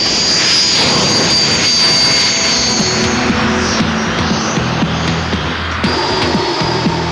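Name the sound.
RAF Red Arrows jet aircraft flying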